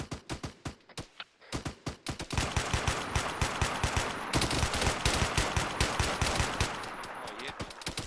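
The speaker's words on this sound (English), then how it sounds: "Right, watch out. Taking fire." Rapid automatic gunfire in the Arma 3 military shooter, loud continuous bursts of shots with brief gaps early on, then a sustained barrage of overlapping fire.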